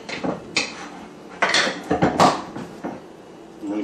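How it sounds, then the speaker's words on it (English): A bowl is scraped in short, uneven clinks and scuffs while warm homemade mozzarella is kneaded and folded, several close bursts with brief pauses between. "And I'm scraping the bowl here."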